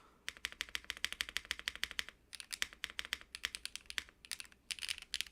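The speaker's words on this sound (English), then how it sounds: "it sounds literally like a completely different keyboard now" Rapid, steady clacking of a mechanical keyboard being typed on, close and crisp, with brief pauses between bursts.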